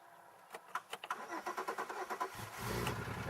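A 2002 Chevy Malibu engine cranks over with a quick run of rhythmic starter pulses, then catches and settles into a steady, rumbling idle, heard up close.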